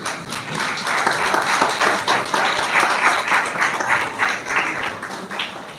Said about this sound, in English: one round of loud applause should go for him